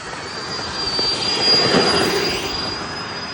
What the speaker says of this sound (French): C'est justement un modèle réduit de jet de l'US Air Force sur la piste et l'avion décolle.